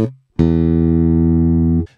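One sustained note rings out on a piccolo bass tuned an octave above a standard bass, bright and steady with a clean attack, held for over a second before it is damped.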